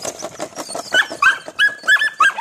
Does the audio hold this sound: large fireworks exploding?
no